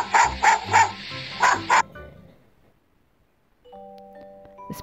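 A dog barks five times in a quick, loud run close by, followed by a pause and then faint electronic chime tones.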